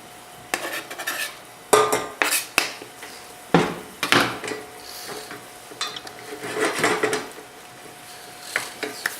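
A utensil scrapes and clacks in a pan as garlic is stirred into softening onions for a mushroom risotto, giving irregular close knocks over a faint sizzle.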